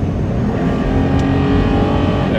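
A 2019 Toyota 4Runner TRD Pro's engine pulls hard while accelerating off-road, a steady loud drone with rising revs and tire roar underneath, heard from inside the cabin.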